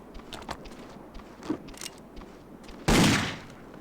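Gunfire in the Indiana Jones and the Infernal Machine video game, scattered sharp pops and footsteps followed by a sustained loud burst of shooting near the end.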